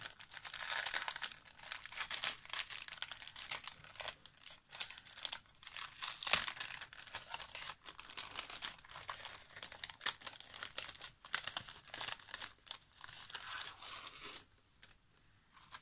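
A plastic bag of birthday mail being opened by hand, a long stretch of close, loud crinkling and crumpling with irregular rustling bursts that fade near the end.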